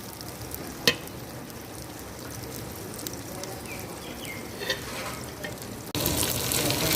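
Okra (bhindi) frying in about two cups of oil, a steady soft sizzle with a few sharper pops and a louder surge of crackling near the end.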